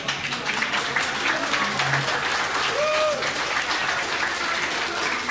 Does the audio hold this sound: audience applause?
yes